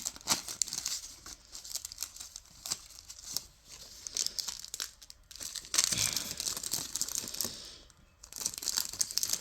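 Advent calendar chocolate being unwrapped by hand, with tape peeled off: close, continuous crinkling and tearing of wrapping, with sharper rips near the middle and end and no talking.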